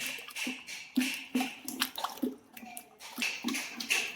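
Water is stirred into primer paint in a bucket, giving soft, rhythmic sloshing and wet squishing strokes, close and fairly quiet, repeating about twice a second.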